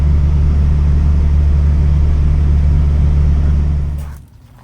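A Cummins 12v diesel truck accelerates on a road test, a loud, steady low rumble close by that drops away sharply near the end, with no talking.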